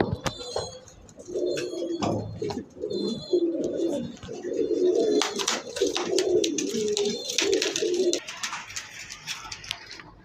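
Pigeons cooing in a pigeon farm, repeated throaty coos in irregular bursts from several nearby birds, with wing flutters and sharp chirps mixed in.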